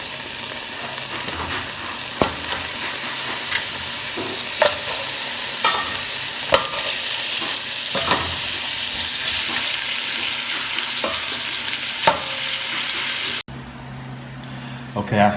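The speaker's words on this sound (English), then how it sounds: "I got my meat searing in the pan right now" Oxtail meat searing in a hot pan, a continuous loud sizzle with periodic clanks and scrapes of stirring, ending in a quieter moment with a brief voice.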